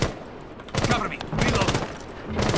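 Bursts of automatic gunfire in the tactical shooter Rainbow Six Siege, fired in rapid rattling volleys separated by short pauses, with a voice talking faintly in between.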